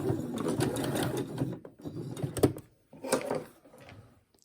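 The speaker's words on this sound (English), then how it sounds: "Back stitch." A sewing machine runs in two bursts while back stitching a fabric mask with a filter pocket, buzzing close and steady, pausing briefly between passes with a faint rustle of fabric.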